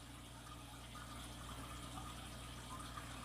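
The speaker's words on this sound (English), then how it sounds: "let's squeeze out the excessive water" Water squeezed out of moistened coconut fibre bedding, a steady continuous trickling and gushing of liquid at low volume, close by with no voices.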